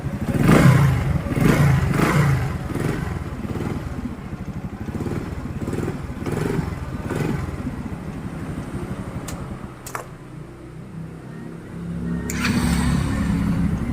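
A motorcycle engine chugs close by after starting via a newly replaced starter motor, revving at first and then settling into a rapid, rough idle with a few clicks and clatters.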